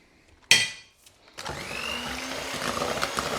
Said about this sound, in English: Get them mixed into the butter and the sugar.